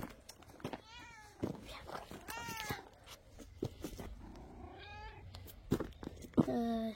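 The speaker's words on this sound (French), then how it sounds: "C'est le chat du du propriétaire." A house cat meows several times in short, rising calls, with soft purring between them, close to the listener and fairly quiet, while faint voices speak in the background.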